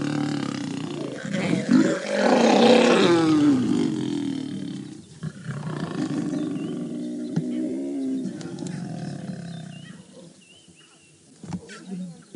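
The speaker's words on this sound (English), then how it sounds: "Lions roaring." Lions of the Nkuhuma pride roaring after a scuffle between males and cubs on a safari drive, deep repeated roars close and loud, building then fading into lower grunting calls with a final burst near the end.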